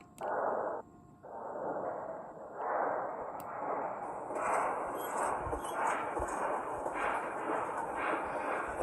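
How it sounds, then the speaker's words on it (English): Big Boy steam locomotive in the Trainz 2 railway simulator, chuffing steadily as it starts off and gathers pace, with rhythmic exhaust beats and a hiss layered over a continuous rumble. "The chuffing sound on this model is very different compared to the other one."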